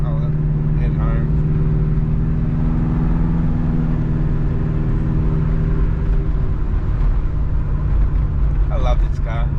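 A compound-turbo Subaru drives along with a loud, steady engine drone and road rumble throughout, and a person talks briefly over it.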